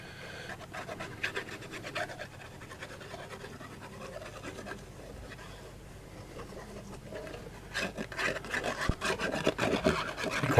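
A glued card being rubbed down by hand onto a wood grain embossed card with raised and recessed texture, giving steady soft rasping strokes at close range, growing louder and busier near the end, with no talking.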